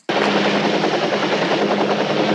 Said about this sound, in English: Oh, there's a police helicopter.